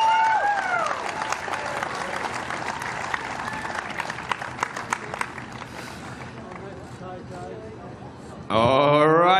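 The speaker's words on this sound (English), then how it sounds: "in third place, please give a big round of applause for Katrina Head." Crowd applauding a third-place finisher at a STIHL Timbersports Australian Trophy 2021 event, steady clapping and cheering sustained throughout, with an announcer's voice heard over it and a brief loud burst near the end.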